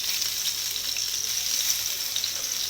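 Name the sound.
fish fillets frying in butter, being flipped in the pan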